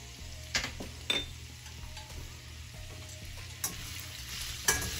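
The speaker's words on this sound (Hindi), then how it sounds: "ये स्टर फ्राई करनी है सब वेजिटेबल्स को, तो मैं सभी वेजिटेबल्स ऐड कर दूँगी।" Onion and vegetables stir-fried over a high flame for chilli chicken, a steady low sizzle with occasional scraping and clinks of the utensil against the pan, no speech.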